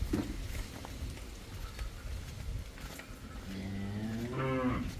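A purebred Jersey cow in Punjab lets out one drawn-out, fairly close moo near the end, after a stretch of quiet outdoor farm background.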